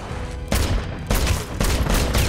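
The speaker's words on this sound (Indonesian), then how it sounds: "seorang sniper dari pihak musuh sudah membidik Falasi dari kejauhan dan tiba-tiba" Loud gunfire in a war film scene involving an enemy sniper, with several heavy cracking shots about half a second apart over a dense, noisy battle background.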